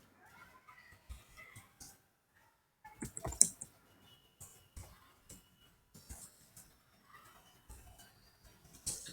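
Java code is typed on a computer keyboard in uneven bursts of quick, close key clicks separated by short pauses, with occasional mouse clicks and no talking.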